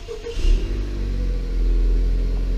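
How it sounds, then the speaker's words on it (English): A Honda Accord 2.0T turbo engine with a Stage 3 tune cranks and fires up, then settles into a loud, steady low rumble close by. "So now you can go ahead and start your vehicle."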